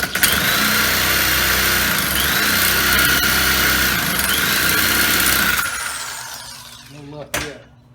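A Homelite economy string trimmer being pull-started with the choke on, giving a loud, steady mechanical roar and whir that fades out, then a single sharp knock near the end.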